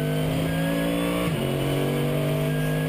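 A Mercedes SLS AMG GT3 race car engine roars from onboard on the Nordschleife, with a loud sustained drone and a brief dip in pitch midway as it shifts before holding steady again.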